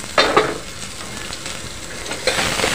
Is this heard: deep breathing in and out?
no